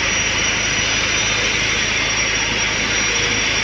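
A steady, loud machine whir runs without break, consistent with polishing white paint on a Hino RM 280 Starbus jetbus body, with no talk over it.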